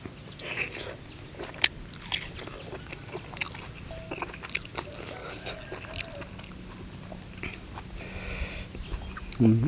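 Crunchy bites and chewing repeat in quick irregular snaps close up, with a low steady background hum throughout.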